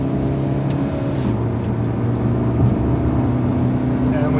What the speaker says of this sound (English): Let's push. The engine responds fairly well.